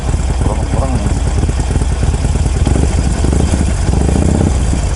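A motorcycle engine idles with a steady low rumble and vibration, while people talk excitedly over it close by; the bikes are a Yamaha R3 and a Harley-Davidson.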